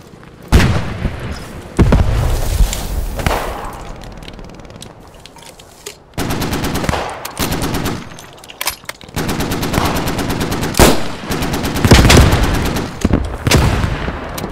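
Heavy .50 cal machine gun fire in the World War II shooter Squad 44, rapid bursts and booming shots in repeated volleys, loud and close with explosions mixed in.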